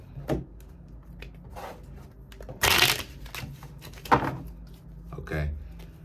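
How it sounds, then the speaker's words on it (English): Tarot cards shuffled by hand in short riffling bursts, with one louder crisp flurry in the middle and softer rustles around it, close and fairly quiet, with faint background sounds between. "Let's shuffle up."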